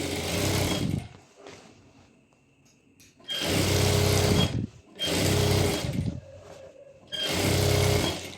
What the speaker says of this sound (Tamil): இன்னொரு ஸ்டிச் போட்டுக்கிறேன் இங்கேயே பக்கத்தில்.